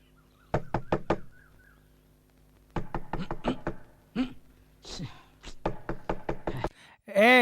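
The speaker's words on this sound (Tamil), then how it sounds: "ஏய், யாரா அது நடுராத்திரில கதவை தட்டிக்கிட்டு?" Loud, close knocking on a door at night, delivered in three separate bursts of quick raps with pauses between them, followed by a brief shout.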